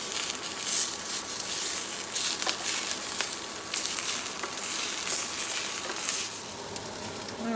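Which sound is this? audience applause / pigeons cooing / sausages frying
sausages frying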